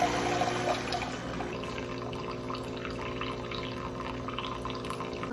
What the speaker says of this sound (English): Now there's a lot of water to dispense.